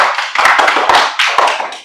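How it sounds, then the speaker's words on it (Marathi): A group of students in a government school classroom claps for a classmate in a short, uneven burst of applause that lasts under two seconds. "एकदा टाळ्या होऊ द्या सुदर्शन साठी"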